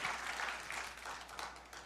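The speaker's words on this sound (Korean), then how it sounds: "예, 박수." An audience at a gubernatorial-style education superintendent debate in Gangwon gives brief, faint applause, a soft scattered patter of clapping that fades quickly.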